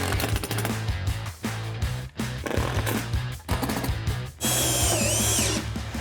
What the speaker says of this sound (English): So let's throw a couple more screws in this thing and move on.